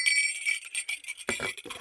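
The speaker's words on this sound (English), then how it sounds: "a bell," A small toy bell from a box of assorted baby toys jingles with bright, high tinkling near the start, then fades as a quieter handling knock follows.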